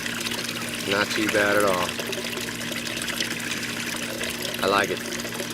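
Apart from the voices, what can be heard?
DIY venturi valve aerating water in aquaponics tank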